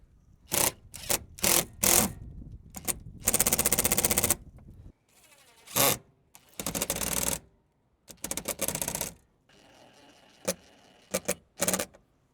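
A power driver runs bolts and screws into a front lip on a 2022+ Subaru WRX, firing in short close mechanical bursts of varying length separated by pauses, with no voices.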